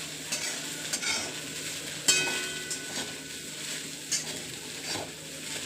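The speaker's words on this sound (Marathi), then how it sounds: "मस्त भात हलवून घेऊया" Seasoned fried rice with cumin, turmeric and chilli powder is stirred in a pan, with repeated scraping strokes and light clinks of a spoon against metal over a faint sizzle, close and continuous.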